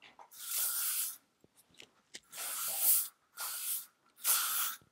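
Three long hissing bursts of L'Oreal Paris Elnett Satin aerosol hairspray on hair, close and steady, separated by short pauses with faint rustling and handling noises.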